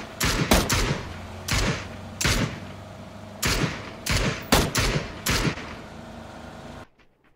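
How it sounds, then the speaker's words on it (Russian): Bursts of gunfire in PUBG aimed at a moving car, several loud close volleys of rapid shots separated by short pauses, ending in abrupt silence. "Тань, патроны мимо летят."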